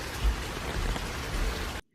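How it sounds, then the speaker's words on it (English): Heavy rain from a rainstorm pours down in a dense, steady hiss with low rumbling, filling nearly two seconds before stopping abruptly. "Guys, here's how bad the rainstorm is."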